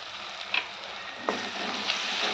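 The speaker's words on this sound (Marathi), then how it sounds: "आता हा ठेचा पण आपण याच्यामध्ये चांगला परतून घेणार आहे" Crushed green chili and garlic thecha sautéing in a pan with softened tomatoes, a steady close hiss of frying broken by a few sharp spoon scrapes.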